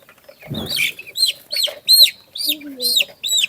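Tiger and Egyptian Fayoumi chickens on a farm cluck and squawk close by in a quick series of repeated calls, with a faint voice briefly underneath.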